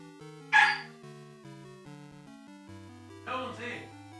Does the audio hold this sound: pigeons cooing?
no